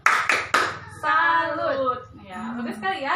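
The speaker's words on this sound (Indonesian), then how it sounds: "1, 2, 3. Tepuk salut." A group performs a rhythmic clapping salute at a child-development parenting session: three sharp, loud claps in quick succession, followed by voices calling out together.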